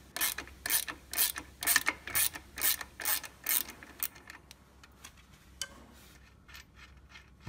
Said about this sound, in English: It's easy if you can lock with one side and use a ratchet on the other.